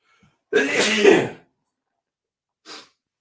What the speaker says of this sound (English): I think I'm going to sneeze now